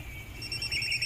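A cellphone alarm rings indoors in the morning with a steady, bright electronic tone. It plays alone and fairly close for about a second, with no talk.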